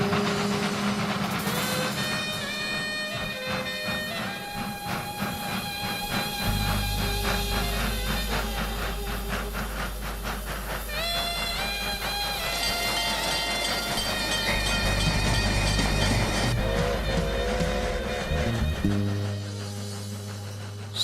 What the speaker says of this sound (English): Soon my train arrived and I lined up to board the locals coach.